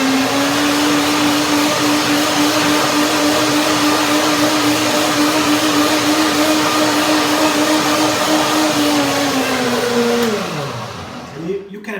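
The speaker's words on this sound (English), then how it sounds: "And I will blend again" A blender runs steadily at high speed, whirring a fruit dressing for a fruit salad until creamy, loud and close for about ten seconds before the motor winds down and stops.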